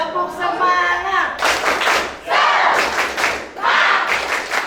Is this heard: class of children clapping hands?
yes